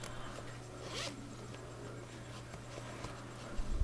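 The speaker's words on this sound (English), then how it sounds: "with a zipper" A zipper is pulled in a few short rasping bursts, close and fairly quiet, with a low steady hum underneath.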